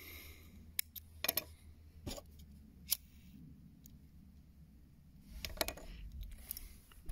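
Scissors snip off excess fishing line on a spinner-rig setup: sharp, quiet clicks and snips come in scattered ones and twos over a faint background, with nobody speaking.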